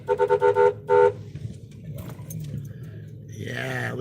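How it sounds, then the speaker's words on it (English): Car horns honking at a street protest by skateboarders against police brutality: a rapid series of short toots followed by one longer blast, then traffic and crowd noise with people talking. "Honk your horn."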